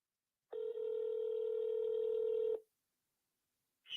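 Telephone call connecting: a single steady tone holds for about two seconds, then silence, then a short higher beep, clean and alone.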